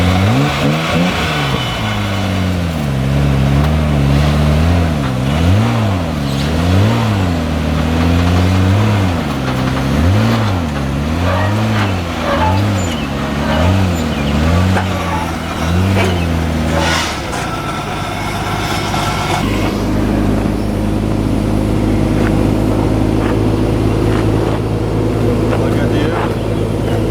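Nissan R32 GTR engine idling and revving with a rising and falling pulse, then settling into a steady idle as the car is loaded onto a trailer, with people talking over it.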